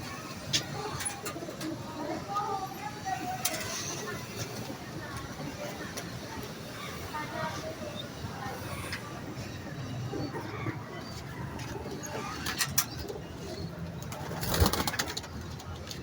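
Pigeons coo softly and steadily in the background of a loft where pet pigeons are being released, with a continuous murmur of birds and occasional louder knocks; someone talks at times.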